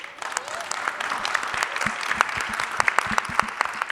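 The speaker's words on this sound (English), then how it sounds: "give yourself a round of applause for being here" An audience at a financial inclusion talk claps steadily, a dense patter of many hands close by, with a voice speaking briefly over it.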